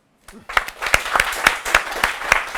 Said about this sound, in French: Franchement, ça s'applaudit.